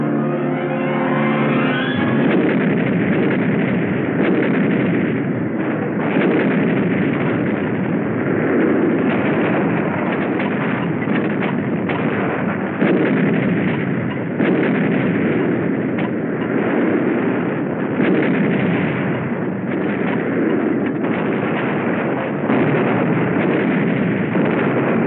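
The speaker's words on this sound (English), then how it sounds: "We call for artillery." Artillery fire and explosions in a WWII battle on Iwo Jima, a continuous loud, dense roar of blasts and rumbling gunfire sustained throughout with no pauses.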